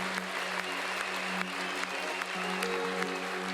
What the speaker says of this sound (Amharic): ከፍ ያለ እልልታ ጭብጨባ።